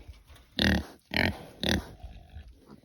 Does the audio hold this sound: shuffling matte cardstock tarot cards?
no